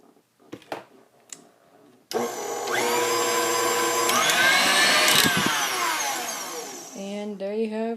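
An electric mixer whips espresso whipped cream for a Starbucks-style frappuccino, switching on after a few light knocks and running loud and steady with a whirring motor tone that shifts and dips near the end.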